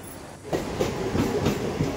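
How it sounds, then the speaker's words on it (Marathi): A Western line local train arrives, a rumbling roll with rhythmic clatter building from near silence into a steady, moderately loud wash of wheels and carriages. "आपली ट्रेन आली"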